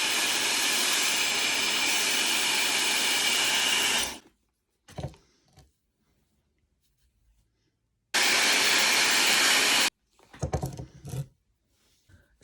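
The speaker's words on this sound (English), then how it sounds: "Go back in with your barrel brush, blow it out." A hair dryer blows hair out over a barrel brush during a smooth blowout, a loud steady roar that runs for about four seconds, cuts off, then returns for a second burst, with quiet handling clicks in the gaps.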